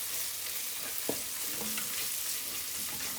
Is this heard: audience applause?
no